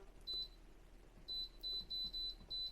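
Air fryer control panel beeping as its timer is set: one short high beep, a pause, then a quick run of five sharp beeps in a row, close and clear in a quiet kitchen.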